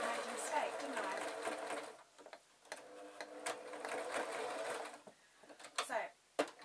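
A sewing machine stitches zebra fur fabric for a draft excluder or puppet, running steadily in a close, rapid whirring burst, then stopping and restarting in shorter starts, with a person talking over it.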